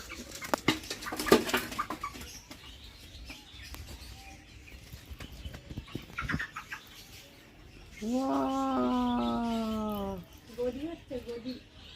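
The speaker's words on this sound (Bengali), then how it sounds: "মুরগি cock cock cock cock cock cock" A few sharp bangs and scuffs at first, then a long drawn-out clucking cry from a nearby chicken, fairly loud against a quiet yard.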